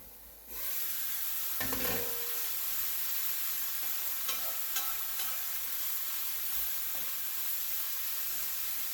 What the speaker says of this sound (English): Alright, give that a stir fry.